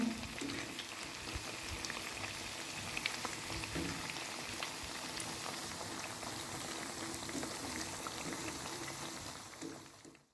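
Potato pakoras bubble and sizzle steadily in hot oil over low to medium heat, a dense, continuous crackling fry that stays even and close for about ten seconds before cutting off.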